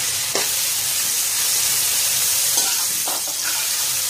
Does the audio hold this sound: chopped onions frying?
yes